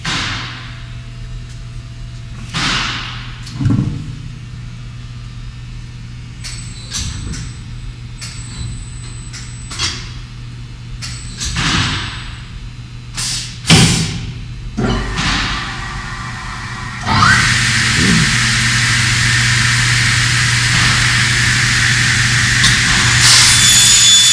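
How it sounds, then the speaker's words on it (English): A Kaltenbach SKL450NA saw runs an automatic cycle on a short 1x2 hollow extrusion, feeding the bar, dropping a vertical clamp with thumps and cutting 2.5 inch lengths, with clanks and hisses over a steady machine hum before a loud sustained cutting roar. "Watch this automatic cycle, brings the bar in, vertical clamp comes down, blade up and down"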